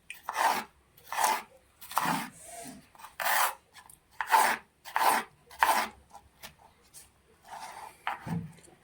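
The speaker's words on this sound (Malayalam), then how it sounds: "ആദ്യം കുക്കുംബർ എടുത്ത് ക്യൂബായിട്ടാണ് നമ്മൾ സലാഡിന് ഇത് അരിയുന്നത്" A knife cuts cucumber in about ten evenly spaced strokes, each a short scraping chop on a board, close and clear.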